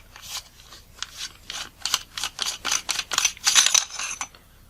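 Part of a Nikon 105mm f/2.5 lens being unscrewed by hand: a close series of faint, short scratchy clicks and ticks in an irregular rhythm, growing a little louder toward the end.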